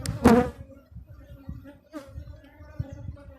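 Honey bees buzzing around an open brood box packed with honey, a steady insect hum with a few louder passes close by.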